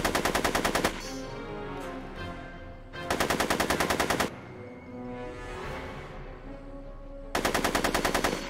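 Bursts of rapid automatic gunfire in the Back to the Future adventure game, three loud rattling volleys separated by quieter stretches of game sound, with no talking during the shots.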